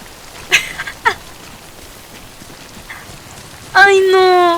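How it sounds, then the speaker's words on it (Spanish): Steady rain falls in the video game Death Stranding as a constant hiss, broken by a few sharp taps. Near the end, a loud, nasal, buzzing tone briefly rises over the rain. "ya que deje de llover"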